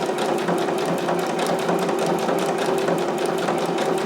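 A sewing machine runs steadily, stitching a zigzag stitch with a straight line along the hem of a jumpsuit with interfacing, its rapid, even needle clatter continuous and close with no talking.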